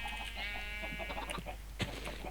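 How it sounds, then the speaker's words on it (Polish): Chickens cluck on a farm in the Minecraft video game: soft, close clucks over a constant background hum, with one brief louder burst near the end and no clear speech. "kurczaków tu się naprawdę dość dużo zrobiło"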